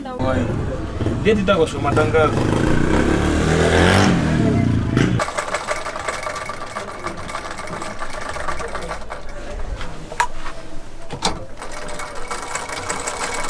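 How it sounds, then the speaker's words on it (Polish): A foot-operated treadle sewing machine runs at a cobbler's small workshop in a Tanzanian village, a busy rhythmic clatter heard under loud nearby talk at first, then continuing more quietly on its own. "Widzimy, że maszyna jest nożna, tak jak szyły nasze babcie"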